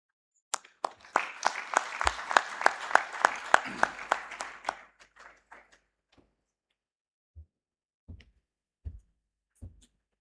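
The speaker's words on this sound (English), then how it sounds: "Can we please give him a big hand of applause?" Conference attendees at a registrars' and magistrates' meeting give a burst of applause that swells for a few seconds and then fades out, followed by a few scattered thumps and knocks in a quiet hall.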